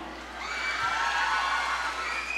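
Live audience at a comedy stage show cheering and whooping, a swelling wash of crowd voices with shouts heard from a distance, and little distinct clapping.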